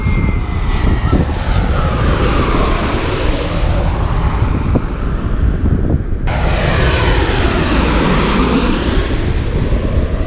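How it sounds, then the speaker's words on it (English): Airplane passing low overhead near the runway at Gravelly Point, a loud continuous jet roar that swells and shifts in pitch as it goes by, with wind buffeting the microphone and no talking. "Watching the airplanes land and take off."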